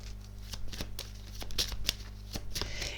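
Tarot cards are shuffled and handled in a reading, giving crisp riffling and flicking bursts close to the mic, with no talking.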